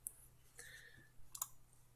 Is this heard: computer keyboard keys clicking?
yes